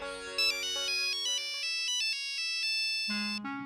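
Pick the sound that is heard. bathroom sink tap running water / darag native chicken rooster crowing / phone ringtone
phone ringtone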